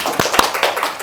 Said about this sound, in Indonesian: sekarang kita kasih tepuk tangan untuk kelompok 1 yang udah maju tadi